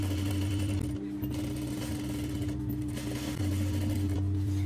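A sewing machine stitches a kandurah dress with a steady, close mechanical hum and rapid needle chatter, briefly easing near the middle before running on at an even level; no voice is heard.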